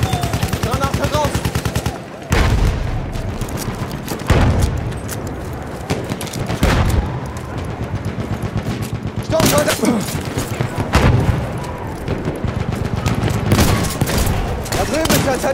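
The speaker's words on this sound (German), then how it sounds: "Vorsicht, Jungs! Ich werf eine Granate!" Battlefield 1 combat: bursts of rapid gunfire and sharp shots crackle throughout, with a grenade blast among them, loud and close, while shouted voices break in between the volleys.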